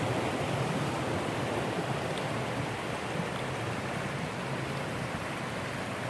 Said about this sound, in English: I'm about a mile in and hiking along this creek now.